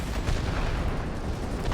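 Aircraft cannons fire in World of Warplanes, a dense rumbling barrage of rapid thuds blending into a continuous loud roar with no clear gaps.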